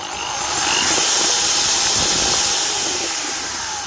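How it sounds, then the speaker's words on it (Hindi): A Black+Decker KR554RE corded hammer drill running in hammering mode under pressure, a loud, close, continuous buzzing whine with rapid rattling impacts that holds steady for the whole stretch. "जब आप ड्रिल करेंगे और इस पर प्रेशर डालेंगे तो यह कुछ इस तरह से बिहेव करेगा। यह हुई हैमरिंग"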